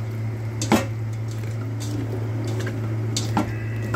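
Marinated grilled chicken heads are mixed in a bowl, giving soft wet squelches and a few light clinks against the bowl over a steady low hum, close and fairly quiet.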